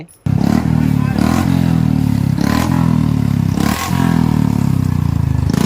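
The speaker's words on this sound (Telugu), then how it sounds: "ఇక్కడ చూసుకుంటే మాత్రం ఫుల్ సౌండ్ అయితే వస్తుంది బైక్ సంబంధించిన" Motorcycles roar in a fairground stunt ride at a village Ratha Yatra fair, a loud, continuous engine drone with rising and falling surges and occasional rattles.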